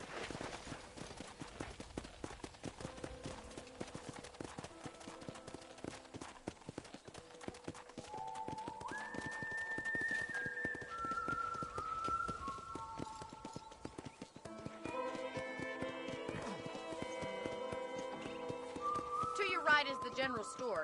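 Steady rhythmic horse hoofbeats clip-clop throughout in a video game, joined partway by whistled melodic tones.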